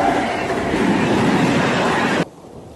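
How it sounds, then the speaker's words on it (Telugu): A small train pulls into a railway station at night, a steady loud rumble of rolling wagons and wheels that holds for about two seconds and then cuts off abruptly to a faint hush. "రైల్వే స్టేషన్లో చిన్న రైలు వచ్చింది"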